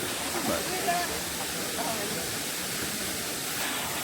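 Waterfall cascades in Kobe pour as a steady, loud broadband rush of falling water that fills the whole moment without a break.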